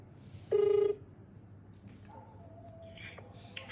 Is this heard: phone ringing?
yes